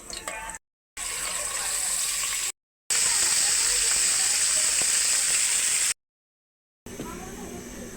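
Small sea fish rubbed with turmeric, chilli and salt frying in a pan, a loud continuous sizzle that runs in several stretches broken by short silent gaps, with someone talking in between.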